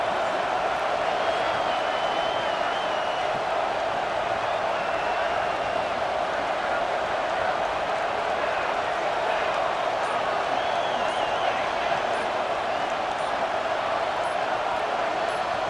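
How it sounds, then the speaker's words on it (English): Roaring football stadium crowd during a college game against #24 ODU, a loud, steady wash of cheering noise sustained throughout with no pause. "with this place rocking, the crowd forces a false start"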